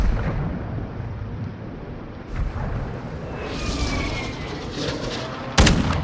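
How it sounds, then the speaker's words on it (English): Shotgun firing in a video game: a dull, booming report rolls through the game's ambient rumble, followed by a single sharp, loud blast near the end, with no talking. "That's a fucking shotgun"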